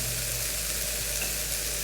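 Food sizzles and crackles in a hot pan as a splash of white wine goes in, a steady close-up hiss without any voices.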